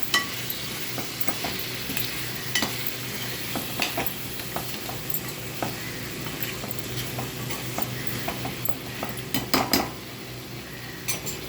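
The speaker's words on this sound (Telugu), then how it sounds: "ఇప్పుడు అందులో కట్ చేసుకున్న ములంకాయలు, కట్ చేసి పెట్టుకున్న బంగాళదుంపలు వేసుకొని బాగా కలుపుకోవాలి" Cut brinjals and potatoes being stirred in a frying pan, a continuous sizzle broken by frequent sharp clicks and scrapes of a spoon against the pan, busier near the end, with no talking.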